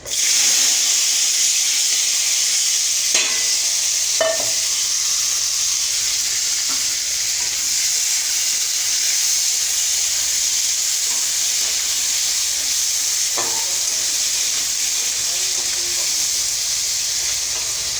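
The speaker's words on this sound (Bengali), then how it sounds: "এটাকে ভালো করে ভেজে নেব। আলু আর গাজরটাকে সুন্দর করে ভেজে নেব।" Diced potatoes and carrots frying with cumin in a pan for sabudana pulao, a loud, even hiss of hot oil running throughout with a few clicks of stirring and no talking.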